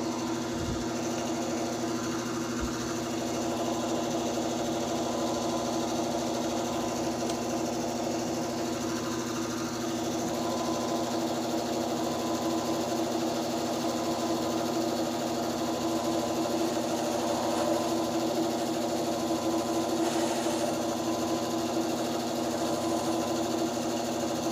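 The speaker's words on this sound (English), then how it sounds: "I have to keep an eye on the lathe while I'm doing this" A lathe turns on a saxophone repair bench while a hinge rod is being fitted, giving a steady motor hum with a faint high whine that holds at an even level throughout, with no talking.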